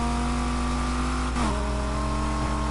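A steady car engine drone with a high, strained whine from heavy damage running through it, briefly shifting pitch midway, continuous and fairly close, in the video game Need for Speed Heat.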